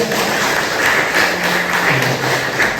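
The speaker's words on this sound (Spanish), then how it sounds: "Un aplauso al Señor" A church congregation applauds during a Sunday service, a dense and steady wash of clapping that carries evenly through the short stretch without a break.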